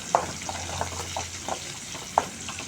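Chopped curry leaves crackle in hot oil for a tamarind kuzhambu, giving a steady low sizzle punctuated by a few sharp pops, close by with no talking.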